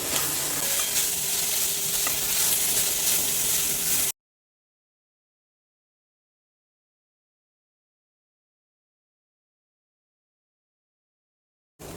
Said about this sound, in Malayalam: ഉള്ളി വാട്ടുന്ന സമയത്തുണ്ടല്ലോ, കുറച്ച് ഉപ്പ്, ഒരു നുള്ളു ഉപ്പും കൂടി ഇട്ടിട്ടുണ്ടെങ്കിൽ വേഗം വാടും.